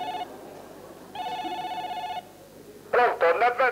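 A telephone rings in two long electronic trills, followed by a louder burst of voices talking over one another near the end.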